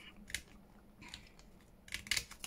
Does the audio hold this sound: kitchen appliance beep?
no